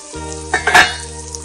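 Snake gourd fry cooks in a pan with a steady sizzle, broken by a few quick stirring scrapes of a utensil against the metal, close and fairly loud, with no voices.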